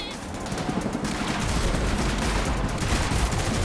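Sustained gunfire in The Matrix Awakens on PS5, a dense rattle of automatic shots and fusillade that builds in loudness and keeps going throughout.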